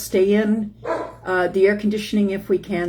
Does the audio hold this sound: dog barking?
yes